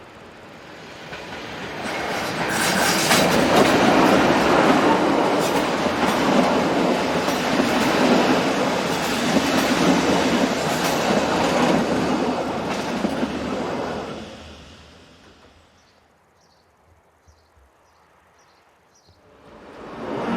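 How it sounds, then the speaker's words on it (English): Train hauled by locomotive 605 on the St. Moritz line passing through Bever, a rolling rumble with clickety-clack of wheels that swells loud for several seconds, fades as it moves off, then rises again briefly at the end. "locomotive number 605 heads a train"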